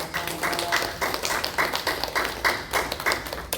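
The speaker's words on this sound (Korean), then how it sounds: "박수로 감사합니다" A Korean church congregation at a Sunday praise service claps together in thanks, a short burst of fairly quiet, evenly paced hand claps.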